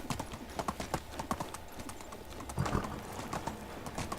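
Donkey hooves clip-clop steadily on the ground in the Medieval Dynasty video game, a close, even rhythm of hoof strikes with faint ambient sound behind.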